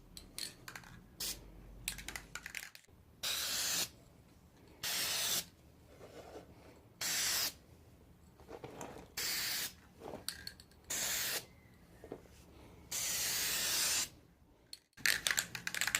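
A headlight housing is spray painted with Krylon satin paint in repeated short hissing aerosol bursts, close and loud, separated by brief pauses, with a few light clicks and knocks between sprays.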